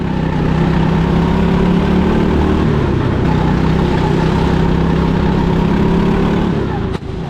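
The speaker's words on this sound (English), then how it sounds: "A snap from the exhaust as you lift off and turn into the hairpin" A go-kart engine drones steadily and loudly throughout, with a sharp exhaust crack near the end as the revs drop on lifting off into a hairpin.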